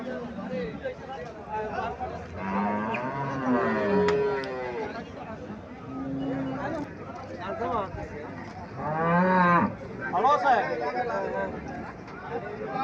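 An improved-breed dairy cow, sold with her young calf at Mirshan in Comilla, gives two long, loud, deep moos, with people talking in the background.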